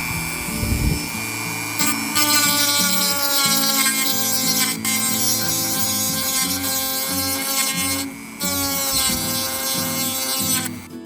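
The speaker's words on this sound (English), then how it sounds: "And I'm going to use my Dremel tool." A Dremel rotary tool grinds down a sticking slide, a loud continuous whine with shifting pitch as it bites the metal, briefly stopping around two and eight seconds before starting again.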